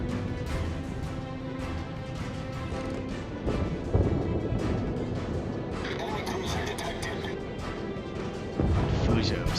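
Battleship forward guns firing in World of Warships, booming naval salvos and crashing impacts over a rumbling engine bed, with a heavy blast near the middle and another near the end, while someone talks over the action.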